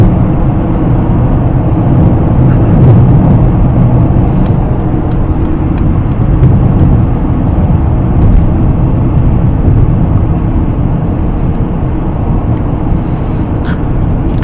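A Mercedes-Maybach GLS 600 SUV cruises through summer traffic, a loud, steady low road and engine drone with tire roar and faint clicks from the cabin, no talking.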